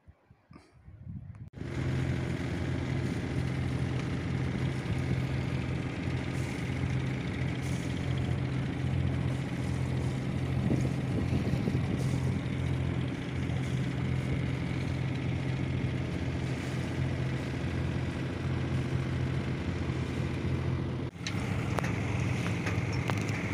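A sailboat's motor drones steadily and evenly for the whole stretch, with a low hum and some wind noise.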